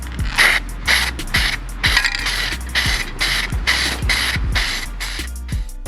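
A spray can fitted with a trigger-pull handle sprays paint in short, repeated hissing bursts, each set off by a sharp click or rattle of the trigger. The bursts come in an uneven rhythm, close and loud, with no voices.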